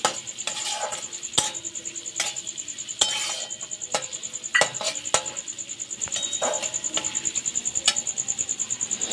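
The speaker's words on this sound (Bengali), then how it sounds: "এবার চিংড়ি মাছটা দিয়ে আমি একটু মশলাটা" Previously fried prawns stir-fried in spice masala in a pan, with repeated metallic scrapes and clinks of a spatula against the pan over a low sizzle, and a steady rhythmic cricket-like chirp in the background throughout.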